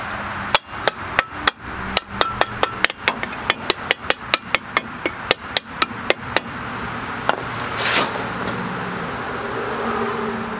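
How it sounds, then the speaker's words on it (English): Repeated sharp hammer strikes on a truck hub during installation, about two dozen loud metallic blows in a steady, slightly uneven rhythm, close by, followed by a rising rush of noise after the hammering stops. "Now to just hammer on this stupid thing."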